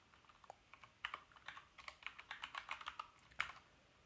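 Rapid typing on a computer keyboard while entering a binomial probability command into R, a quick run of crisp, close key clicks of uneven rhythm with no talking.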